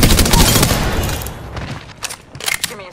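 A loud burst of rapid video game gunfire opens the clip and fades, followed by a few sharper scattered shots and clatter near the end.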